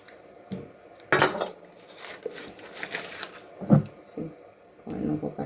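Butter is spread for garlic bread with soft scraping and clinking of a knife or utensil against a dish, intermittent and close, while a voice talks over it.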